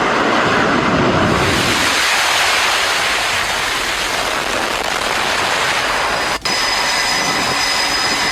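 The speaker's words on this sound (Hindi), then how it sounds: "वहां से ये फाइटर जेट्स उड़ान भर रहे हैं" Fighter jets launching from the aircraft carrier USS Abraham Lincoln roar continuously, a loud broadband engine blast that swells and stays dense throughout, with no voices.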